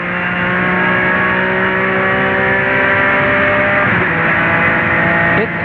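Race car in the 2003 Rolex 24 endurance race, engine loud and close, holding a strong harmonic drone while easing off and back on the power through a chicane, steady throughout with no voices.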